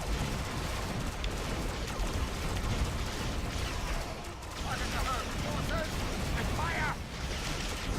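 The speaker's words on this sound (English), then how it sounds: "And a lot of explosions." Explosions and weapon fire rumble continuously in a Star Trek Online space battle on Xbox One, a dense, loud, roaring barrage with short bursts layered on top and no pauses.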